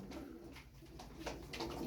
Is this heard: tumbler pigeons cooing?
yes